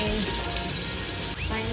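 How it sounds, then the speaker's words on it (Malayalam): Shallots and green chilli, with ginger and garlic, fry in hot oil in a home kitchen, giving a steady close sizzle with a brief stir near the end. "ചുവന്നുള്ളിയും പച്ചമുളകും കൂടെ അടിച്ച് നന്നായിട്ട് വഴറ്റുകയാണ് എണ്ണയിൽ"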